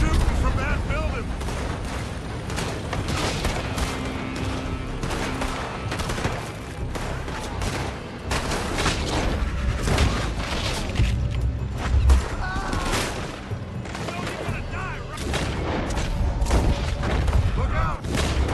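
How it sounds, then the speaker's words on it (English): Enemy gunfire from a building crackles in Red Dead Redemption 2, dense overlapping gunshots and booms firing continuously and loudly with speech heard among the shots. "They're shooting from that building."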